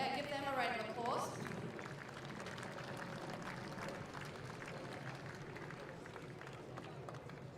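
Audience applause for tennis players at the Giorgio Armani Tennis Classic, Hurlingham Club, a steady dense wash of clapping from a crowd, moderately distant, holding evenly throughout after a brief tonal sound at the start.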